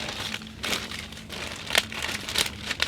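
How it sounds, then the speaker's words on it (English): Plastic bag holding coffee crinkles steadily, with close, crisp rustling bursts throughout and no voices. "I'm going to put that back in a plastic bag to hopefully keep it fresher longer."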